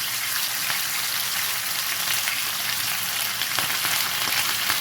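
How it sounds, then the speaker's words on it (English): Fish fry in a pan with a steady, even crackling sizzle, like light rain, heard close and alone without talk. "And you just leave it, let it fry."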